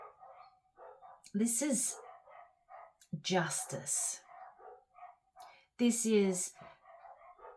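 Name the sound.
neighbours' dogs barking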